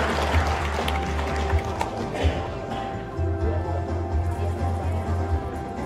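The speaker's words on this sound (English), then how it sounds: "Please give a round of applause, everyone." Applause at a university award ceremony rises from an audience as winners step onto the stage, sustained clapping in a large room over a low, steady hum.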